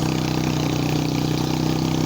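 Old motorbike engine labouring uphill, a loud, steady throbbing drone close by that holds its pitch throughout, with no talk.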